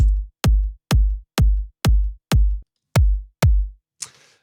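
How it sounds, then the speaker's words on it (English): Professional kick drum sample from the Vengeance library, struck eight times in an even, steady rhythm, each hit a loud, deep, punchy thump with a quick decay, followed by a short, faint noisy burst at the end. "I'm using a kick from Vengeance, you know, professional sounding kick"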